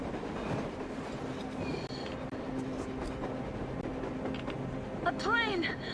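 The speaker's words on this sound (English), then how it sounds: "A train! A damn train on the surface!" In the game Metro Exodus, a train rolls past on the surface with steady rumbling and rhythmic clickety-clack, ending in rising metallic wheel squeals.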